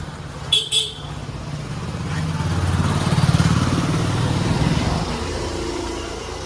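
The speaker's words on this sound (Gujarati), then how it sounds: "જો માંગરોળની બજાર કંઈક આવી છે, અત્યારે બપોરનો ટાઈમ છે એટલે થોડી ઓછી દુકાન ખુલી છે।" Midday street traffic in a market in Mangrol: a motorcycle or small vehicle passes close by, its engine swelling and fading over a few seconds, with short sharp clatters at the start and a general street hum.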